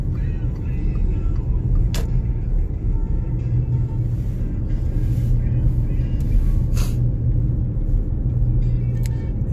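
A 2013 Volkswagen Touareg driving on the road, heard from inside as a steady low rumble of engine and tire noise with a few brief clicks and a voice talking.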